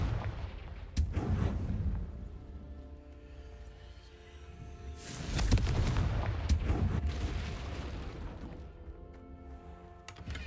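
Explosions from the Confringo fire spell in Hogwarts Legacy, with a sharp crack followed by two deep, rumbling blasts and crackling debris. Loud and close, with no voice over them.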